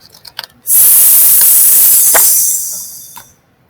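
Several children's voices imitate a snake's hiss together, a loud sustained breathy hiss lasting about two seconds before fading, preceded by a few faint taps.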